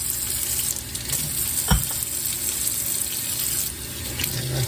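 Mason jars being rinsed under a running tap, a steady hiss of water splashing into a sink with a brief clink partway through.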